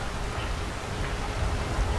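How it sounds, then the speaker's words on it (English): Rain falls steadily in a farming video game, a soft, even patter of drops with a low rumble beneath, continuous and with no voices. "well, you're lucky it's just rain."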